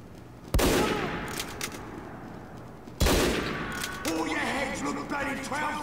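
Gunfire in a shooter video game: two loud sharp shots from a sniper rifle, each followed by a ringing decay, then a rapid run of quieter automatic fire toward the end.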